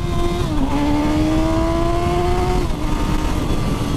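A Suzuki GSX-S1000 motorcycle under hard full-throttle acceleration, its engine note climbing steadily in a loud, close rising whine before a brief dip at the gear change and a renewed pull.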